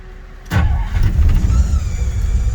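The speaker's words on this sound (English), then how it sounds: "We're gonna fire this sucker up." Classic Chrysler New Yorker fires up close by: after a brief quiet moment, the engine cranks and catches at once, then settles into a loud, steady running rumble.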